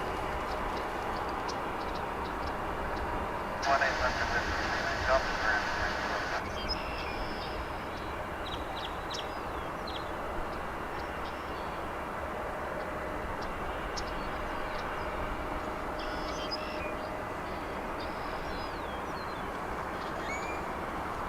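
American Airlines Boeing 787-9 Dreamliner on the runway at Dallas Fort Worth airport, a steady distant jet roar, with a brief louder hissing burst and faint birds in the background.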